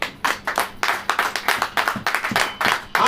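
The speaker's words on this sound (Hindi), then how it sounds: "ताली हो जाएगी" A church congregation claps together during a sermon, with quick, steady, closely spaced claps that run evenly throughout and sound loud and near.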